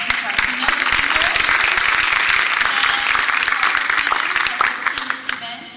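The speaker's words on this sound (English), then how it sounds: "let's give a round of applause again to our keynote speaker" A keynote speaker at an event on immersion programs receives a sustained round of audience applause: dense, loud clapping from a crowd that holds steady and then tapers off at the end, with voices mixed in.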